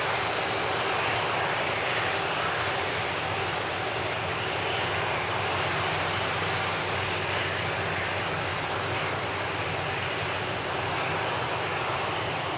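A fixed-wing airliner taxiing toward the start of runway 05 left, its engines giving a steady, broad, moderately loud roar that holds constant throughout with no voices.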